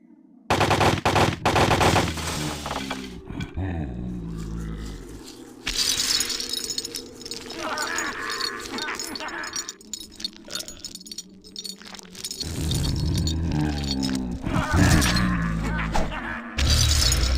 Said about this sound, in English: Here's the Flayer's secondary fire.